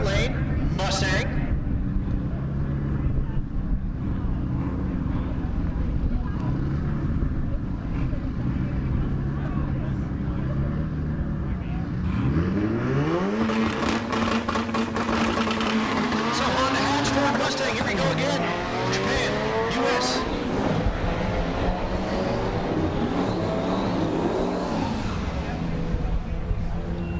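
A Honda hatchback and a Mustang drag racing at the SRCA dragstrip in Great Bend, Kansas. Engines idle and rumble, then launch hard with climbing revs and gear changes, loud and close, while an announcer talks over them.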